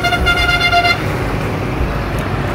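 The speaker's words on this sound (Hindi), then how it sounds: "और ये ट्रैफिक गुजर रही है यहाँ से" Vehicles pass along a village road in the evening, a short car horn toot at the start followed by a continuous close traffic roar.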